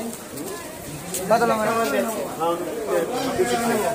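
Pigeons, chicks among them, coo at a busy livestock market, the soft calls sitting low beneath steady, close conversation between buyers and a seller.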